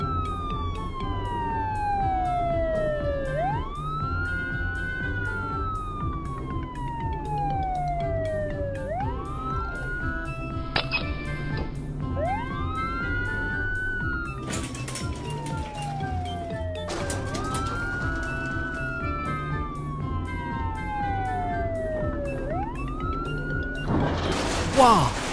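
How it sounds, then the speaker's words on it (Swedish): A cartoon police car siren wails in repeated falling sweeps, moderately loud and steady, with occasional bright sound effects and a voice speaking now and then. "Det här är en polisbil. Den patrullerar i staden."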